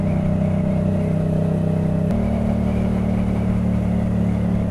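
A Yamaha MT motorcycle engine hums steadily while riding on an easy road outing, with a gear change partway through dropping the tone slightly, up close and loud without voices.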